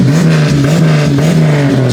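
Turbocharged Jeep engine revving hard under brake torque while in gear, a loud steady roar with pulsing surges, close by and without talk.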